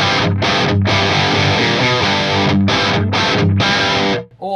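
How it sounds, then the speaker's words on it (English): Electric guitar played through the FAS Crunch amp model of an Axe-Fx III, loud, crunchy distorted chords chugging steadily with brief gaps between strums, ringing alone until a sudden cutoff at the end. "The FAS Crunch sounds like this."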